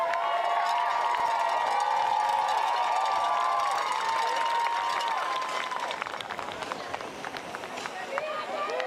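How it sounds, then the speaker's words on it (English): At a snowboard contest, spectators cheer and whoop in a loud, continuous roar, with sustained yelling that thins toward the end while a commentator's voice carries over the crowd. "You can hear the cheering from the crowd."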